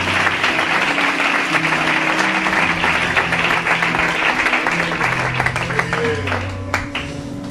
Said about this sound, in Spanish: Dale un aplauso fuerte para él,